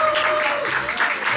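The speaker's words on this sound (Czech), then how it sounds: "Poprosím potlesk." A small café audience at a student band's gig claps in a brief, fairly close ripple of applause, with a sustained tone fading beneath it.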